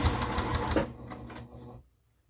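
A domestic sewing machine stitches a seam through several fabric layers on an upcycled project, running in a steady fast buzz before slowing and stopping, with no talking.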